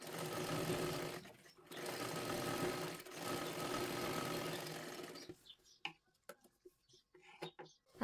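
Sewing machine running steadily while stitching the lower edge of a size 37 three-piece princess-cut blouse, a continuous close whir for about five seconds with brief slowdowns, then stopping into quieter clicks and handling noises.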